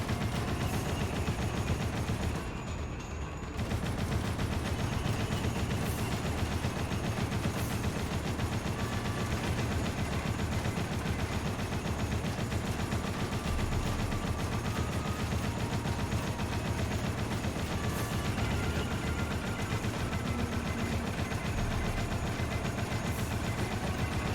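Turret gunfire in the Dead Rising video game during the turret section: sustained rapid machine-gun bursts that run almost continuously, loud and dense, with a short gap near the start.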